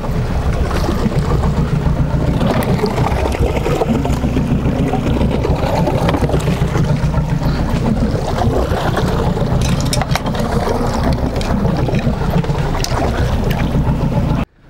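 Continuous low rumble of a small fishing boat moving across open sea water, with wind buffeting the microphone throughout and no voices.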